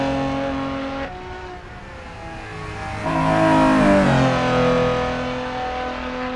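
A classic racing car over 50 years old with a 220 kph top speed revs its engine in the Assetto Corsa EVO video game, loud and close, the pitch rising and falling through gear changes.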